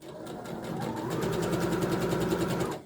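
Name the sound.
sewing machine stitching a dart on a blouse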